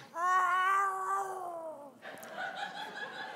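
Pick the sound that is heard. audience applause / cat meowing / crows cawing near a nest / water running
cat meowing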